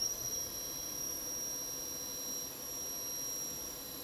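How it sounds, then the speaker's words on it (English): A TRAK toolroom machining center spindle runs steadily, giving a constant high whine with a sustained tonal squeal over a low mechanical hum, close and even throughout. "turn the spindle on, just bring it down"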